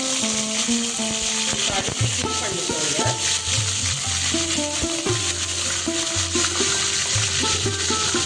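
Mustard seeds, dried red chillies and curry leaves sizzle loudly in hot oil, a steady close frying hiss throughout, with a brief bit of talk over it.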